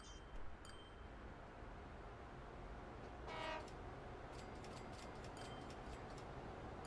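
A train running in the Train Fever video game, with a steady rumbling rail noise throughout, a brief horn or whistle blast and scattered clicks of game interface sounds.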